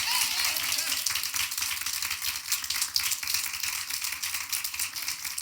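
A church congregation claps in praise during a Sunday morning worship service, a dense, steady wash of many hands filling the whole stretch at moderate loudness.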